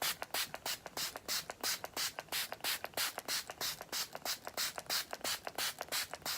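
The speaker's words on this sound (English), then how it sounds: "So I'm just going to spray my face." Makeup Revolution Pro Supreme Hold setting spray misted onto a face: a long run of short, close, crisp spray bursts in steady rhythm, roughly three a second, with no talk.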